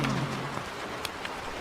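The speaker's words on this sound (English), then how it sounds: "Thunder cracked. Rain poured harder." Heavy rain pours in a steady broadband hiss with a few sharp drop-like ticks and a low rumble at the start that fits distant thunder, no voices present.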